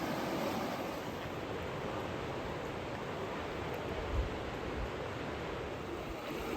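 The Truckee River at a swimming hole, a broad, steady rush of flowing water that stays constant and fairly soft throughout, with no voices.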